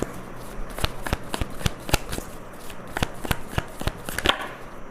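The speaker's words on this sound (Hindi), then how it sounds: "आपके फीलिंग्स के लिए मैं यहाँ पे कार्ड्स निकालूंगी" Tarot cards are shuffled and drawn, giving a rapid series of crisp, close riffling snaps in uneven bursts over a quiet background.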